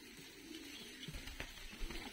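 Tumbler pigeons cooing during an evening feeding in Tbilisi, Georgia, soft low coos rising and falling over a steady background hum, with a few light rustles and taps nearby.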